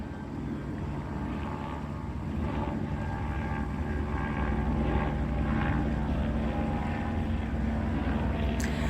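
A helicopter flies nearby overhead: a steady low engine drone with a throbbing rotor hum persists throughout, loud and continuous.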